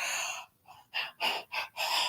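A reader imitating a woman gasping for air, a run of four or five sharp, breathy gasps in uneven rhythm, close and fairly loud, with no words spoken.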